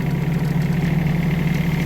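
A tractor engine hauling firewood in its bucket chugs steadily at close range, a loud, continuous low rumble with an even mechanical throb.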